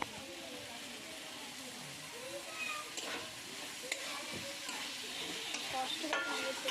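Chilli chicken pieces fry in a pan with a little water, a soft steady sizzle under occasional stirring scrapes and clinks, fairly quiet with faint background voices.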